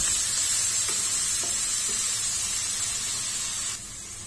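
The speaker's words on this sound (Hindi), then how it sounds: "1 टेबलस्पून जिंजर गार्लिक पेस्ट, हल्का सा चला देते हैं, फ्लेम को लो टू मीडियम रखें।" Ginger garlic paste sizzles and fries steadily in a pan over low to medium flame, a continuous close hiss with a few faint stirring scrapes, dropping slightly in level near the end.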